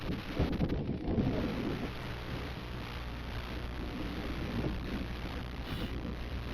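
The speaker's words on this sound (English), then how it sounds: "Oh, it's a pity it's so windy." Steady low wind rumble buffeting the microphone, continuous and fairly loud throughout, with no voices.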